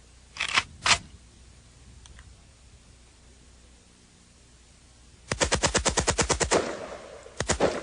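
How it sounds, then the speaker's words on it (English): An AK-47 fired on fully automatic: two sharp shots near the start, then after a quiet pause a loud, rapid burst of about a dozen rounds, followed by a brief second burst of three or four. "This is the fully automatic firearm. It's an AK-47."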